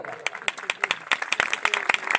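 A church congregation claps their hands in quick, uneven bursts of overlapping claps, fairly close and steady for a couple of seconds.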